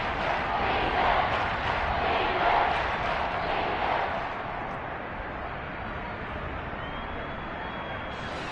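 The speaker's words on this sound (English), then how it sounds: "This red zone is where the Seahawk crowd really makes it tough for an offense to communicate." Seahawks home stadium crowd roaring in a Raiders versus Seahawks football video game, a dense, continuous wall of distant cheering that swells, then settles to a lower steady rumble.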